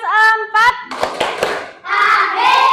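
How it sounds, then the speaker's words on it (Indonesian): A school class of fourth graders doing a rhythmic clapping chant, sharp hand claps mixed with children's chanted voices, loud and close in a classroom. "Coba sekarang tepuk dulu ya. Tepuk kelas"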